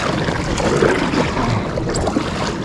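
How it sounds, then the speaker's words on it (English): A large river waterfall roars as a dense, steady rush of falling water, loud and close, with no voices. "Well, we're officially at the waterfall."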